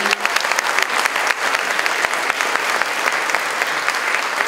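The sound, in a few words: applause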